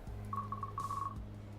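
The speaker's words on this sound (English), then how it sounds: "It buzzes again." A phone in the video game Growing Up buzzes twice in short pulsing bursts, a faint electronic ring over a steady low hum.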